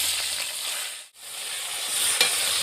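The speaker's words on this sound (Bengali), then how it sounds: "পেঁয়াজগুলো তেলের উপর দিয়ে দেবো" Onions hit hot oil already holding sugar, bay leaf, dried red chilli, cumin, cinnamon, cardamom and cloves, a loud close sizzle that drops away for an instant mid-clip, then hisses on strongly.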